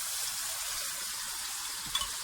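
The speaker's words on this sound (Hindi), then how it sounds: "अब मैं इसमें थोड़ा सा पानी डालूंगी" Chicken pieces for golden chicken rice sizzle loudly in a pan after a little water is poured in, a dense, even frying hiss with a brief spatter near the end.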